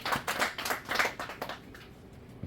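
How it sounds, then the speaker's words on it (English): An audience at an English stand-up comedy show gives a short burst of scattered clapping that fades quickly into near quiet. "you can clap for that actually."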